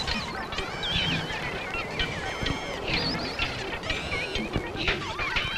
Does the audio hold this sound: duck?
yes